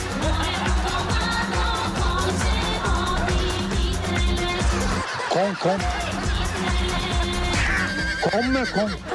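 A horse in a Roma neighbourhood in Bulgaria whinnies in short wavering bursts midway and near the end, heard among loud chatter, laughter and a busy crowd.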